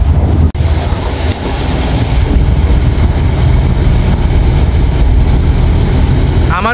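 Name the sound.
passenger launch MV Taranga 7 approaching at high speed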